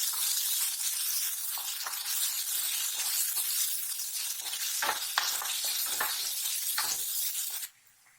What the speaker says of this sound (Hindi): और ये पेस्ट बनाया था इसे हम भून लेंगे मीडियम आंच पे।